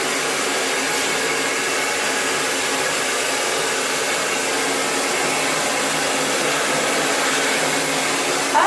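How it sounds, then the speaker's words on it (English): A hair dryer blow-drying thick natural hair runs continuously as a loud, close, even whoosh with no pauses and no voices. "it takes a little longer for the blow dry to really, really get through all those layers of hair"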